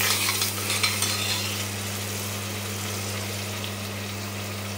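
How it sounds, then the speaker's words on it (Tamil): Masala gravy with curry masala powder is sautéed in a pressure cooker for chicken biryani, giving a steady, close sizzle with faint stirring over a constant low hum. "போட்டுட்டு இதை நல்லா வதக்கி விட்டுடலாம்"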